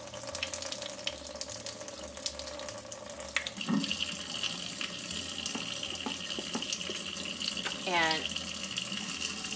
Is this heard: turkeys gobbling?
no